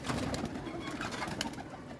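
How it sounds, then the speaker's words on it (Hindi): A captured green pigeon coos softly and repeatedly close by, the low calls carrying under faint background noise. "ये है कबूतर जो कि पकड़ा है।"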